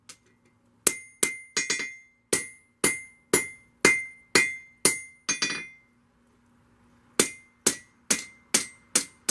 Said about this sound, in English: start driving it down over the horn of the anvil